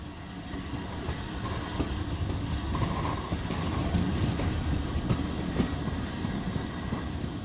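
Train carriage sound effect: a steady rumbling rail ride with rhythmic clickety-clack of wheels over joints and faint squeals, continuous and moderately loud, no speech.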